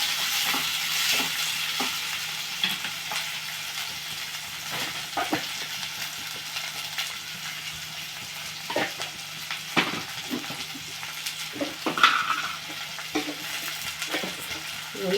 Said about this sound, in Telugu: ఈరోజు చిన్న కూర వండుతున్నాను